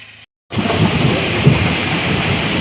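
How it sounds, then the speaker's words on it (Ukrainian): Dense, heavy rain pours steadily after a brief silence, with a low rumbling undertone of thunder beneath the constant roar. "Це благодатний дощ. Лиє, як має бути."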